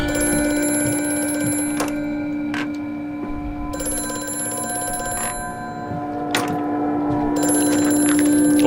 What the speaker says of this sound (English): Phone's going again.